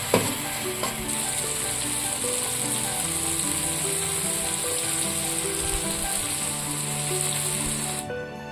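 Chicken tomato masala with salt sizzling and frying in a pan, a continuous loud hiss with bright crackle and occasional stirring scrapes, cutting off abruptly at the end.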